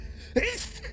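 A single close sneeze, a sharp breathy burst lasting under half a second, with no talk over it.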